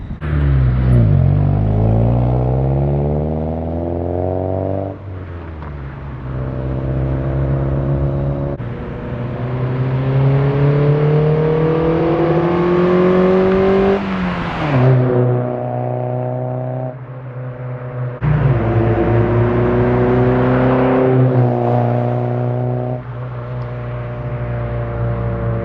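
A Honda Del Sol's engine revs repeatedly outdoors, climbing in pitch then dropping back, several long rising pulls with brief idles between, loud and close.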